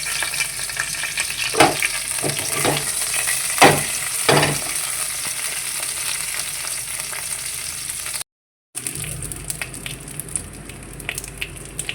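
Crushed garlic, curry leaves and mustard seeds sizzling in hot oil for an aloo methi potato and fenugreek dish, a loud close crackle with several bursts of stirring scrapes, a brief dropout, then renewed spattering and sizzle.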